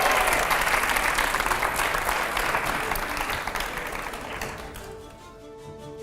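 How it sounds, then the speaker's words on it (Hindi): Loud, dense audience applause at a televised panel event with an actress and newspaper editors, filling most of the clip before tapering off near the end. "जोरदार तालियां।"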